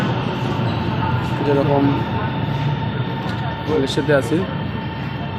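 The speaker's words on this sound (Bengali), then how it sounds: "underground metro rail" An underground metro train runs in Guangzhou, giving a steady, close rumble that fills the whole clip, with people talking over it.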